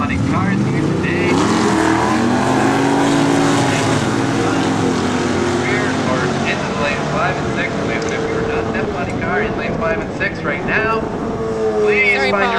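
Loud, continuous roar of F-body drag racing cars accelerating down the track at Cayuga, with rising revving tones and a constant wall of noise throughout, crowd or announcer voices faintly mixed beneath.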